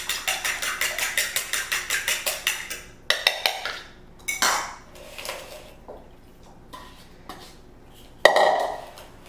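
Eggs whisked in a bowl for potato latkes: a fast, regular run of light tapping clicks for about three seconds, then scattered louder knocks and scrapes against the bowl, close and clear.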